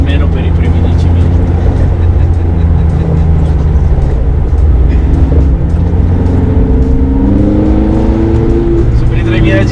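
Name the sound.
Ferrari F430 engine and exhaust sound while driving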